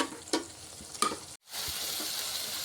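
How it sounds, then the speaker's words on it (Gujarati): Chili sizzles in hot oil for Gujarati spiced rice, a constant frying hiss broken by two sharp scrapes of stirring, then a brief gap before the sizzle resumes just as strongly. "મરચું પાકી ગયું છે"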